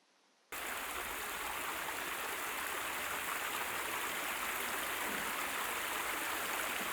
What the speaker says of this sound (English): Just look at the clean water here.